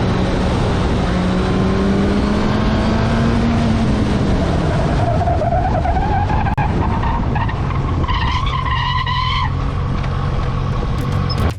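A speeding car skids on a road over hills, a loud, sustained tire squeal with sliding, wavering tones over roaring engine and road noise, lasting the whole stretch with no voices.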